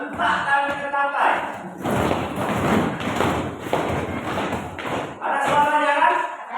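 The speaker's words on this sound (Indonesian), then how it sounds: "Hentak kaki ke lantai." Feet stomp on a floor in a series of dull, fairly loud thuds during a classroom demonstration of sounds made with the body, with a person talking before and after.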